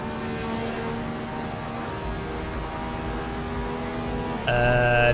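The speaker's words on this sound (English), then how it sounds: "This is a Radical SL3 XXR." Radical SL3 XXR race car in Assetto Corsa, its engine holding a steady high drone with dense harmonics, then lifting abruptly into a louder, sharper rev near the end.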